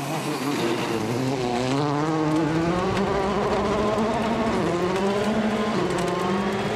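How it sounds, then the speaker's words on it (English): A Volkswagen rally car on a stage of the 2013 Rally de Portugal, its engine note rising and falling through gear changes, loud and continuous throughout with no talk. "it's Ogier's turn to get pedal to the metal in our head-to-head section"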